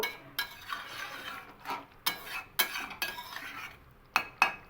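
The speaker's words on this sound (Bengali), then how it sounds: "খুব ভালো করে ধনেপাতা আর কাঁচা লঙ্কাটাকে তরকারির সঙ্গে একটু মিশিয়ে নেব" A spoon stirs coriander leaves and green chillies into a cauliflower and potato curry in a pan, making a series of close scraping and clinking strokes with pauses between them.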